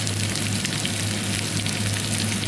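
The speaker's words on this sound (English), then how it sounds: "So first fry the onion nicely." Chopped onion fries in a pan for a kala channa dish, a dense, even sizzle with steady crackle and a low background hum throughout, no talking.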